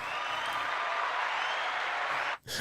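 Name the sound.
welcoming clap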